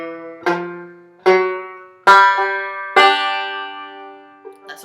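A short banjo phrase from "Kansas City Railroad Blues": four separate plucked chords or pinches, each ringing and fading, played close and alone.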